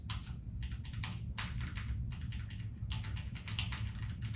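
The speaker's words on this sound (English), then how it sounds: "Just listen to those clicks." Rapid mechanical keyboard typing on Cherry MX Red switches, a steady run of crisp key presses with brief pauses, close and fairly quiet, no talking.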